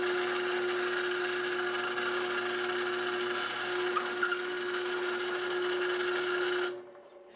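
A power drill bores a hole in wood in one continuous steady whine with grinding texture, loud and close, before cutting off sharply near the end with no talking.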